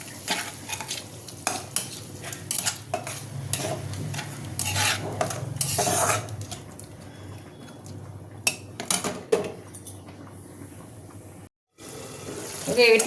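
Spiced curry with cumin, coriander and garam masala powders for a rohu fish roe fritter curry is stirred and sautéed in a pan, with repeated close scraping and clattering strokes over a faint sizzle and a brief pause near the end.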